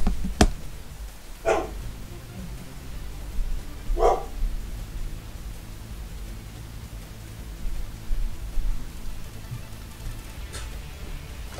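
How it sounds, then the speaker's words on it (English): A dog barks a few times indoors, sharp isolated barks spaced several seconds apart, fairly close, with a faint later yip and low room hum between. "Dog's barking."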